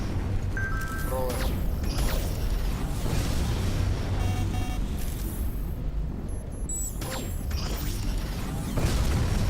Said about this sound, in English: Oh, I'm reloading.